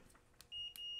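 A multimeter in continuity mode tests the ground on a KSGER T12 soldering station. It gives a faint, steady high beep in two short stretches, with light clicks of the test leads around them.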